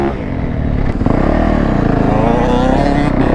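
Two-stroke dirt bike on a trail ride, its engine droning loud and close with a steady buzzing rasp and slight revving swells throughout.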